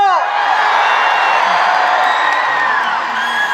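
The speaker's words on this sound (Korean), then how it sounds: "그렇다면 크게 함성 한번 질러볼까요?" A concert crowd in Ganghwa roars with sustained shouting, whoops and cheers at an October outdoor show with a guest singer, loud, dense and continuous for the whole stretch, with a few voices briefly rising above the mass.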